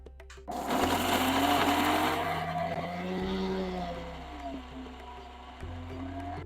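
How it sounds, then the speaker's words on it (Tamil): A kitchen mixer grinder grinds tomato and gooseberry in short pulses, its loud whirring motor rising, fading away and restarting in quick bursts. "பல்ஸ் மோடில் இந்த தக்காளியும் நெ நெல்லிக்காயும் நம்ம அரைக்கணும்"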